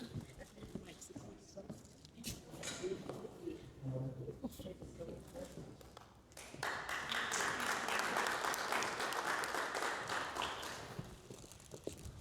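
Audience at a comedy stage theatre show breaking into loud, sustained applause that swells and fades after a stretch of talking over murmuring.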